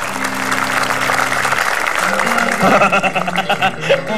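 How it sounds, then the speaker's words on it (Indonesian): A television comedy studio audience breaks into a burst of applause mixed with cheering and laughter. It starts under a voice, then turns into louder, uneven clapping and crowd noise. "Tepuk tangan dulu dong Firsa."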